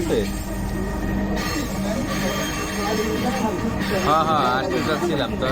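A metro rail train in Bangladesh heard from inside while riding, with a steady rumbling drone, a few brief wheel squeals and a rising whine near the end, while people talk throughout.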